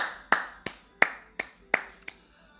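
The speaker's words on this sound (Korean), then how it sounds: "박수" Six sharp, separate claps at a slow, even rhythm, close and fairly loud, with the last two coming quicker and softer.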